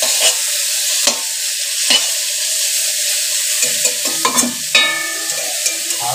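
Vegetables, including bottle gourd greens, being stirred and fried in a pan, with a steady sizzle and repeated scraping strokes of the spoon, close and fairly loud, with no talk.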